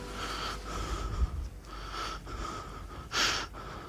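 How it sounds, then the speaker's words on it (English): Heavy breathing left in a song recording: repeated raspy, snorting breaths and gasps in an uneven rhythm, fairly close and prominent. "That's such a clever choice to leave the breathing in there"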